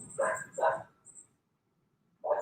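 A dog barks twice in quick succession, pauses, then barks once more. The barks are moderately distant and stand alone in an otherwise quiet room.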